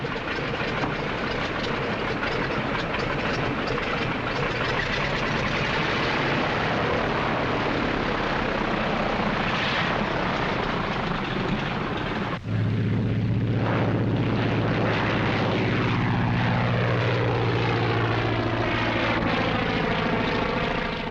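Propeller airplane in flight, a loud continuous engine drone filling the whole stretch, with a shift partway through to a steadier, tonal hum, no talking over it.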